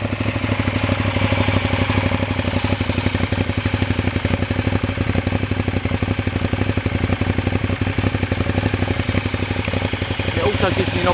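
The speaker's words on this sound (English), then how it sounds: "You'll hear that lovely SC Project exhaust sparking into life." A motorcycle with an SC Project aftermarket exhaust fires up and settles into a loud, throaty idle with a rapid, lumpy pulsing beat, close by and steady throughout.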